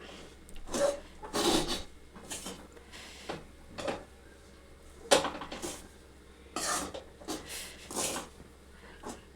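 Rice flour dough for uppudu pindi is stirred in a pot on low heat, giving quiet, intermittent rasping scrapes and rubs in short bursts separated by near silence.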